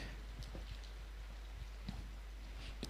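Rain falls steadily at an outdoor athletics meet, a faint even patter with scattered drops, heard alone.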